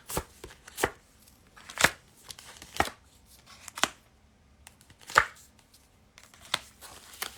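A tarot deck being cut and handled by hand: a series of about ten sharp, crisp card snaps and taps, spaced irregularly and heard close and alone.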